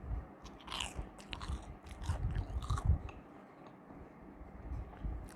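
Someone bites into a chicken doughnut with cheese garlic sauce, making soft crunches followed by close, wet chewing, while faint clicks and scrapes sound nearby.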